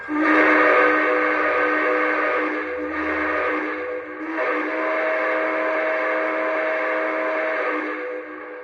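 Sustained, chord-like steam whistle from a Lionel B&O EM1 Yellowstone model steam locomotive, sounding in long blasts with brief dips, then fading out at the end.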